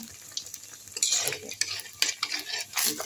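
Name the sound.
batter frying in oil in a pan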